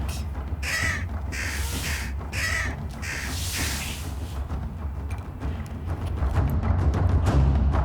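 Crows caw repeatedly in harsh bursts, several loud calls in quick succession over a rumbling outdoor background.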